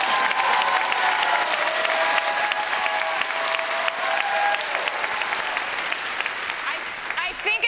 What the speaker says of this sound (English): I don't want to step on your applause